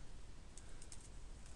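A few soft keystrokes tap on a computer keyboard, faint and close, scattered over a low steady hum.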